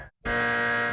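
A single sustained electronic quiz buzzer, loud and harsh, starting after a short silence and holding steady for most of a second.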